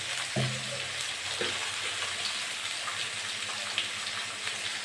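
Pointed gourd and potato frying in hot oil, a loud continuous crackling sizzle with a few clunks of stirring early on, no talking.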